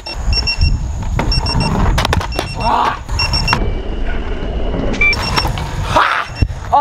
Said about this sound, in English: I didn't even realize how annoying that beeping noise is